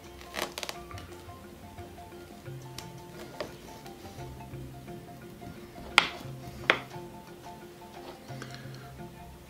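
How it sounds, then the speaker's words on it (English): A knife cuts the tail off a sardine for fishing bait, giving a few sharp crisp taps and cracks against a board, with two stronger chops near the end amid quiet handling noise. "I'm going to cut the tail to form that little body I'm talking about."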